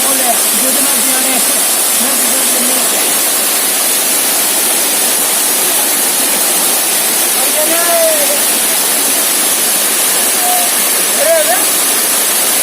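A waterfall pours down in a constant loud, hissing roar that fills the whole stretch, with faint voices briefly surfacing under the rush of water.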